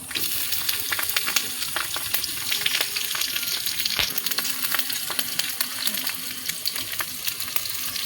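Onion with green chillies fries in a pan, giving a continuous close crackling sizzle with occasional stirring clatter, no voices over it.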